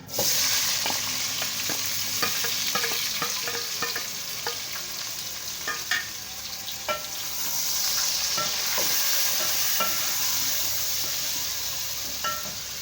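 Onions and tomatoes sizzle and fry steadily in spice masala in a hot pan for a degi gosht curry, with scattered clicks and spatters from stirring throughout.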